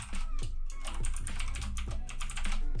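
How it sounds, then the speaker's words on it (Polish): Rapid clatter of keys on a computer keyboard as an email address is typed, a steady run of close, crisp keystrokes with no voices. "Wpisujemy nasz adres e-mail"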